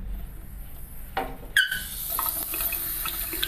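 Water runs from a tap into a sink in a New York apartment, a steady hiss of flow that surges louder midway and continues, with no talking.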